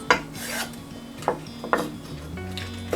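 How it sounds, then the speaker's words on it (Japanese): A knife cutting fresh green peppers into thin strips on a board, with crisp, separate chops at an uneven, unhurried pace, close and clear, with a faint hum behind and no talk. "きんぴら用のピーマンも細切りにします。"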